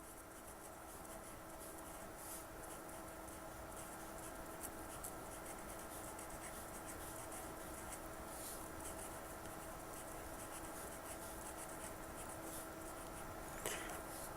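A pencil or pen writes the alphabet and draws on paper, making a faint continuous scratching and rubbing that lasts throughout over a steady background hum.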